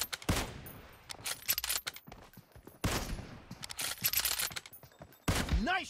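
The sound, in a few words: sniper rifle gunshots in the video game PUBG Mobile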